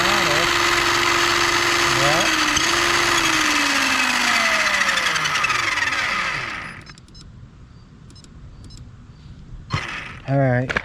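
A Tamiya Midnight Pumpkin RC truck's electric motor whines at full throttle, a loud high pitched tone that sweeps up and down before cutting out, followed by brief clicks and a short burst.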